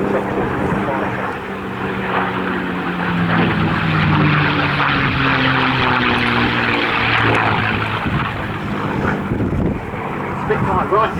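A P-51 Mustang propeller fighter flies past at an airshow at RAF Cosford, its engine a continuous loud drone with shifting pitch, mixed with wind buffeting on the microphone.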